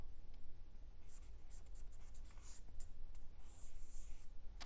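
A pen scratches steadily across paper close to the microphone while a teacher works through an example, producing a continuous dry scraping with quick strokes and no talking.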